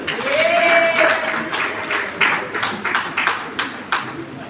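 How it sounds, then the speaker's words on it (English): Wedding guests clapping during a toast, scattered individual claps building into applause, with a faint ringing tone early on and murmured voices underneath. "Can we give a round of applause to children?"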